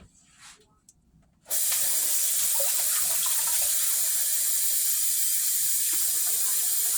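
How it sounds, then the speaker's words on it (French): Warm water pours steadily into a mixture being prepared for ablo, a loud, continuous splashing hiss that starts abruptly after a brief quiet moment and runs without a break. "Là, je vais ajouter encore un peu l'eau tiède."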